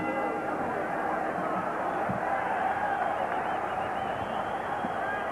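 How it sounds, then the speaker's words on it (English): Loud, continuous roar of a boxing arena crowd during round 11 of a 1980 title fight, a dense wall of cheering and shouting without pause. "And this crowd is now really in a state of bedlam"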